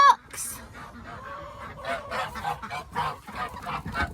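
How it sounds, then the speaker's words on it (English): Ducks and geese honk in a morning yard as they are let out, a close cluster of repeated nasal calls in uneven bursts, mixed with a brief human voice at the start. "Good morning, ducks!"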